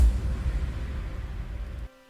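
A heavy EDM impact from Severman's Feel Young booms with deep low-end weight and wash, holding for almost two seconds before cutting abruptly to a faint tonal ring.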